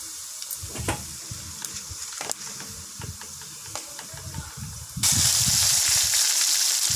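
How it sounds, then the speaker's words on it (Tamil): Whole spices, bay leaf, fennel, cinnamon and cloves, frying in hot oil in a pan, with a continuous sizzle and crackle and scattered pops that swells into a louder, harsher hiss for the last couple of seconds. "எண்ணெய் நல்லா காஞ்சதுக்கப்புறம் பிரியாணி இலை, சோம்பு, பட்டை, லவங்கம் எல்லாத்தையும் போட்டு நல்லா வதக்குங்க"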